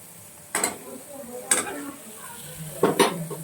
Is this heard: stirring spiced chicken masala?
yes